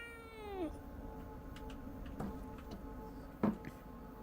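A cat meow in the Fears to Fathom Woodbury Getaway horror game, made by a human voice imitating a cat: one falling meow up front, then quiet ticking and soft knocks with a sharper bump near the end.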